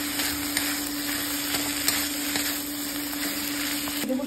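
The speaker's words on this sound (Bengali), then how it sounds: "আমি বেটে রাখা পোস্তটা দিয়ে দেবো, ভালো করে নেড়ে চেড়ে নেব।" Ivy gourd cooking with onion and ground poppy seed paste being stirred in a pan for Bengali kundri posto, a soft continuous sizzle with light scraping strokes over a steady background hum.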